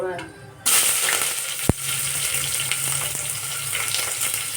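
Curry leaves and onion hit a hot pan and burst into a loud, steady sizzle, with one sharp clink of a utensil shortly after.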